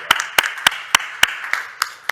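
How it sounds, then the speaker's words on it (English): Sparse, evenly spaced hand claps, about eight sharp slaps roughly a third of a second apart, from a small audience at a legal panel discussion, close and distinct with little crowd noise around them. "So give David a big round of applause."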